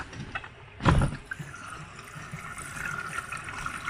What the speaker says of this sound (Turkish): ana yıkama suyunu alıyor.